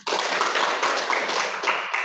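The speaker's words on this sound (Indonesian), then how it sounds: "Tepuk tangan." A class claps hands in applause, a dense burst of many palms patting together close by, steady for about two seconds before tapering off.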